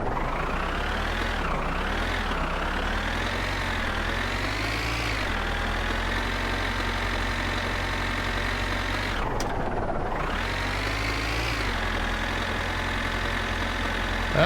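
Tractor engine in the driving game My Winter Car, a steady low diesel rumble that holds for the whole stretch, with pitch rising and falling as the throttle shifts and a brief dip near the end, heard alone without talk.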